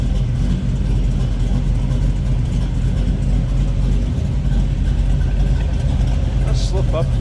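Close, loud idle from a 1970 Chevrolet Nova with a lumpy cam, the exhaust rumbling deep and throaty in a steady, unbroken burble.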